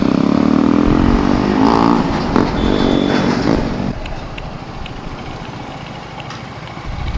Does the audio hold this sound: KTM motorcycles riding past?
yes